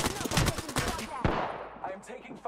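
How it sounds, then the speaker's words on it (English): Bursts of rapid gunfire ring out in a multiplayer video game, sharp repeated shots crackling close, then tailing off into faint echoes, with players' voices talking over the fight. "I am taking fire."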